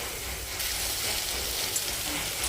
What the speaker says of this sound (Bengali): এবার নাড়িয়ে চাড়িয়ে আলুগুলোকে একটু ভেজে নিই